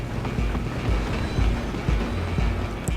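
Train rolling on rails in Red Dead Redemption 2, a loud continuous rumble with rhythmic low thumps of wheels over track joints, close and steady without talk.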